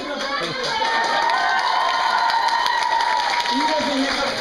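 Audience applause and crowd noise fill a hotel event hall in Kraków, steady and loud for several seconds, with cheering and voices mixed into the clapping.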